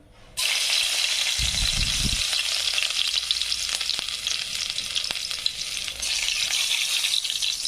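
Garlic dropped into spiced oil in a kadhai sizzles loudly and steadily, with a faint low clatter near the start and occasional stirring ticks, no voices over the frying.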